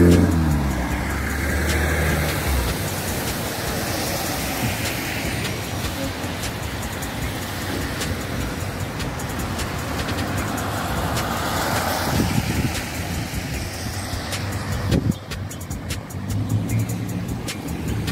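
Cars and trucks passing through an intersection whose traffic lights are switched off, a steady close roar of engines and tyres with vehicles accelerating and rumbling by continuously.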